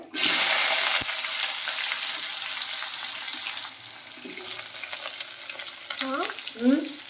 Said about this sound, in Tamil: பட்டை வகையெல்லாம் நல்லா பொரிஞ்சிச்சு இப்போ வந்து வெங்காயம் சேர்த்துக்கிறேன்